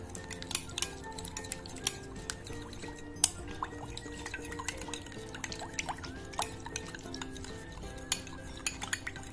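A spoon stirs a watery slime mixture in a container, producing a steady run of small clinks, scrapes and wet squelches, close and fairly quiet.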